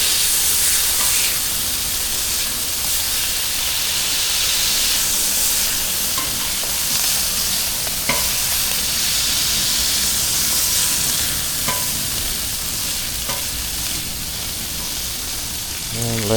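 Burgers and sausages sizzle on a Blackstone griddle, giving a steady, fairly loud broadband hiss with scattered crackles and a few sharp clicks throughout, with no talking.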